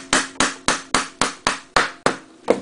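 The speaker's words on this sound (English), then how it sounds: "Take a screwdriver. Tap it out." Nine sharp, evenly spaced taps of a screwdriver driving out a pin on an M4 rifle, close and crisp, each strike decaying quickly before the next.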